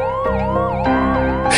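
An ambulance siren, loud and close, wailing in rising and falling sweeps with no talk over it.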